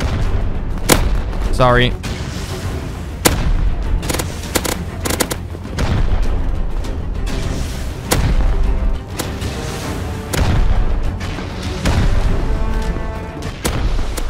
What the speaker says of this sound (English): I'm blowing it up. Get away from the door. Move out the way. We're shooting incendiary rockets.